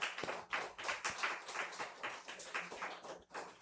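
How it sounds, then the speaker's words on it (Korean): A church congregation claps in congratulation during a Sunday service, many hands beating in a quick, fairly even rhythm with soft, moderate loudness and no voices over it. "한번 박수로 축하하겠습니다."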